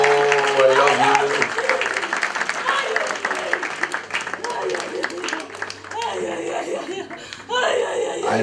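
A church congregation applauds and cheers at a worship gathering in Lyon, a loud, dense wash of clapping and shouts that fades slightly midway and then swells again, with voices mixed through it.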